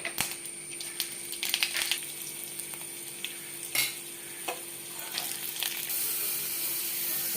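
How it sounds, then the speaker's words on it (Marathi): Mustard seeds sizzling and popping in hot oil in a heated kadhai for tempering, a faint steady crackle with scattered sharp pops and light stirring clinks, close by. "आता तेलाची मोहरी देते, आता फोडणी टाकते."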